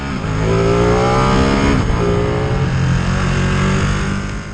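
A Ducati Streetfighter V2 motorcycle engine, ridden on the road with stiffened front suspension, revs high and climbs steadily in pitch, then drops back briefly and pulls again; loud and close throughout.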